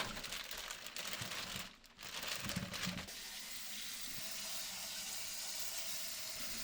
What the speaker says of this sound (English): we are going to wash and cut our Brussels sprouts.